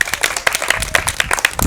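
A crowd claps briskly in a dense, steady patter of hand claps, close and loud for under two seconds.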